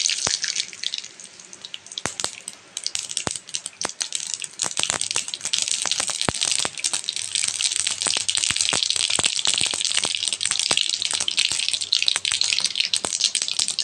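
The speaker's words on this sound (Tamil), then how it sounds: "கடுகு பொரிஞ்சிச்சு." Mustard seeds spluttering in about two ladles of hot oil for a banana-flower stir-fry, a dense, continuous crackle and sizzle with scattered sharp pops, close and steady throughout.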